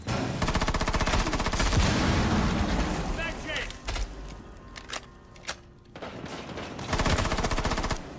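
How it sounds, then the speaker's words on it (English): Rapid automatic gunfire in the video game Rainbow Six Siege, loud, sustained bursts with single shots and a short lull before firing resumes near the end. "Oh no, he shot."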